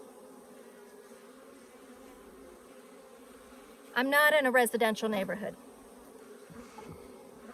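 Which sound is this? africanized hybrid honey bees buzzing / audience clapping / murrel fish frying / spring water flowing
africanized hybrid honey bees buzzing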